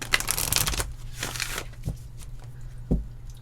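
A Moonology oracle card deck being shuffled close up, two quick bursts of riffling cards followed by a few soft taps and handling sounds in a quiet room.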